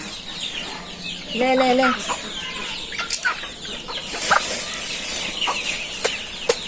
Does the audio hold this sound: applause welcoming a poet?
no